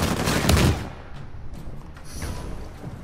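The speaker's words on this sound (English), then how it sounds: "Laying down suppressive fire." Rapid bursts of suppressive gunfire in the Uncharted 4 video game, loudest at the start and then continuing as scattered, more distant shots and impacts.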